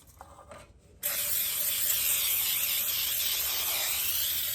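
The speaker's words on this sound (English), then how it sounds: "Just go in there very generous with your cooking spray." A long, steady hiss of cooking spray sprayed into a cake pan, close and fairly loud, following a brief softer spritz.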